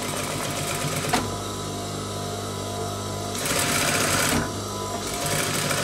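A sewing machine stitches a seam on baggy trousers, a close, steady mechanical whir broken by a sharp click near one second and two louder, faster bursts of stitching later on, with no talking.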